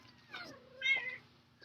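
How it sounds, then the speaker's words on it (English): A cat meows twice indoors, a soft rising call followed by a louder second one, fairly close in an otherwise quiet room. "Special guest spot by a kitty for you there."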